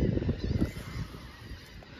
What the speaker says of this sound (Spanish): Cargan pues los pájaros